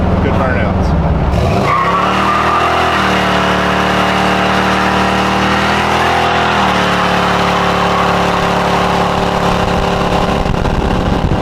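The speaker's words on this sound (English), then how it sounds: "Now it does good burnouts." A 1972 Monte Carlo with a big block engine revs up into a loud, sustained burnout, tires squealing and skidding over a roaring engine for several seconds before the pitch shifts and the screech carries on.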